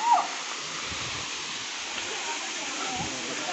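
A waterfall near Narsinghpur gives a steady, broad rushing roar of falling water that holds evenly from start to end, close and full with no pauses.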